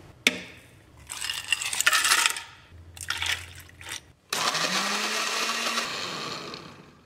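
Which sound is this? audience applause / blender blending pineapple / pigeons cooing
blender blending pineapple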